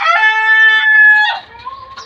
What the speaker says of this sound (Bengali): দেখেন ডিম দিচ্ছে আমার মুরগি